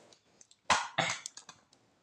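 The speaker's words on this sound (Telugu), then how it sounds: "మధ్యలో దగ్గుతున్నాను ఏమనుకోకండి, నాకు కొంచెం డ్రై కాఫ్ ఉందన్నమాట" A dry cough from a person indoors, two sharp close coughs in quick succession amid faint clicks and rustles.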